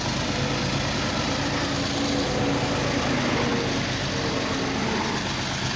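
HMT 3511 tractor engine pulling a fully loaded trolley, a steady low diesel rumble that holds an even, continuous drone throughout without pauses, close and moderately loud, with no talking.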